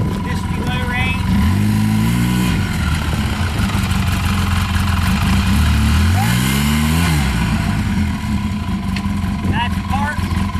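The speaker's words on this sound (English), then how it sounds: "I'll fire it up here, forward and back, and I'll run it around so you can see that it goes through all its gears" A 2012 Polaris RZR 800 side-by-side starts and drives in low range, engine loud and close, revving up and settling in rising and falling sweeps with a steady underlying drone while someone talks over it.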